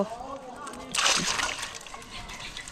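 Red field crabs being rinsed and sloshed in water while preparing a Lao-style chili crab paste, with a burst of splashing in the middle under a voice talking nearby.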